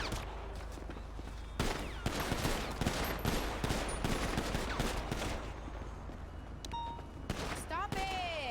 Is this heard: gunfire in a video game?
yes